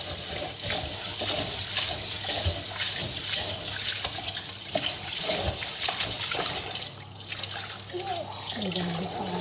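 Tap water runs and splashes steadily while basmati rice is rinsed in a pot, close and continuous, with a voice speaking over it.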